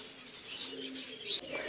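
Pigeons and doves coo softly at a busy outdoor bird market, with a low murmuring call, faint chirps and a brief sharper note near the end.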